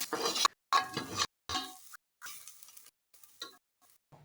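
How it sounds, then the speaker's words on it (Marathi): A spoon stirs biryani masala, turmeric and a homemade spice mix through a hot pan, giving several short scraping, sizzling bursts separated by brief silences, close and fairly loud. "आता मी बिर्याणी मसाला टाकून घेतलाय आणि त्यानंतर हळद टाकून घेतोय आणि मग घरगुती मसाला टाकून घेतलाय आणि मस्त ढवळून घेतोय"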